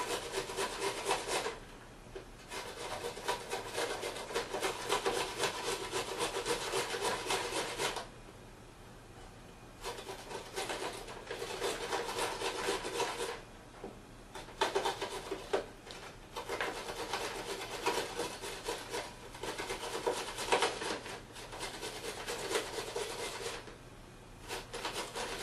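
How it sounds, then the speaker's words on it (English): Carrots being grated by hand on a kitchen grater, a steady rasping scrape in long strokes broken by short pauses, close and fairly loud with no talking. "You always want to be careful when you're grating so that you don't nick your finger."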